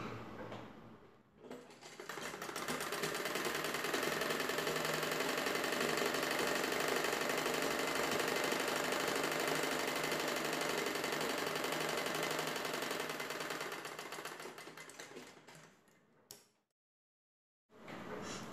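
An electric sewing machine hums in a long continuous run while stitching folded blouse fabric at a hem, loud and steady for about fourteen seconds before stopping, then briefly restarting.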